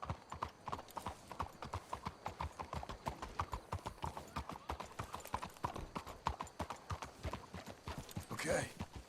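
Video game horse hooves from Red Dead Redemption 2 clip-clop in a brisk, steady rhythm, close and continuous, with a brief voice near the end.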